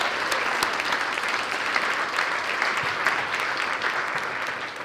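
Steady, dense applause from an audience at a summer institute talk event, sustained and even for the whole stretch with no voices over it.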